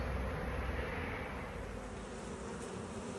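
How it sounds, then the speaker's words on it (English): A honeybee swarm flies into a hive outdoors at an apiary, a dense, continuous buzzing hum of many bees close by, steady and alone. "The flying bees that didn't go into the box are now going into the hive."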